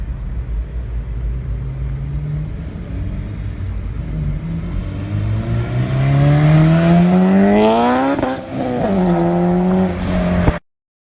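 A turbocharged 8th-gen Honda Civic drives past, its engine note climbing through the revs as it accelerates, then shifting and surging again before cutting off abruptly, loud and close with no talking.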